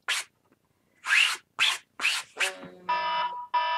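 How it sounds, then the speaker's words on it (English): A phone alarm goes off after several scratchy rubbing bursts from canvas work, ringing as a steady electronic tone that repeats twice, loud and close, with no talk. "My alarm's going off on my phone."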